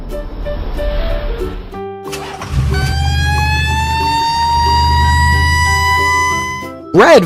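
A red fire truck siren wails in a rising sweep and holds steadily, loud and close, following a short burst of engine-like noise.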